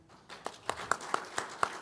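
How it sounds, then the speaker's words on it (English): Light applause from a small audience at a county association session, about half a dozen separate claps spaced evenly over under two seconds, fairly quiet. "So let's give an applause to Dale County."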